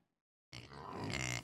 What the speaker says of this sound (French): C'est un cochon.